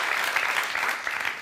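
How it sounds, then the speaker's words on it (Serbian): Studio audience at a Serbian late-night talk show breaks into dense, steady applause, loud and close, filling the whole moment without pause. "Što voli da mi grune ovaj aplauz"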